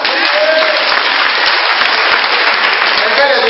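A church congregation claps and applauds loudly and continuously in praise of the Lord, a dense, even wall of hand claps filling the space without pause.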